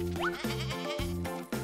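A cartoon goat bleats loudly and up close in a wavering, nasal call with springy boing-like slides, alone and without talk.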